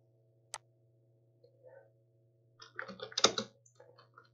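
A command typed on a computer keyboard in Kali Linux: a single sharp click, a pause, then a quick close burst of key presses and a few softer taps in an otherwise quiet room.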